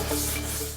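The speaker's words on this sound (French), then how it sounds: "Limer un tout petit peu la structure pour récupérer les dixièmes de millimètre qui manquent." A hand file scrapes against a structure in a short, close rubbing stroke, lasting under a second.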